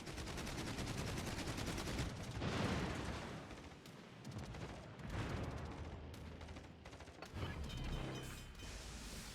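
Ship guns firing in a World of Warships naval battle between tier 3 destroyers. Rapid mechanical bursts and booming salvos come in several waves over a dense, rumbling background, loud and continuous, with no talking.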